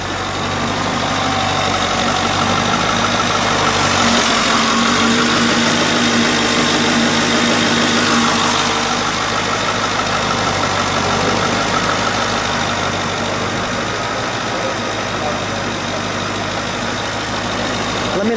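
A 1937 Ford two-door custom restomod with a V8 engine idles nearby, a steady, even rumble with a constant throb that runs the whole time without revving.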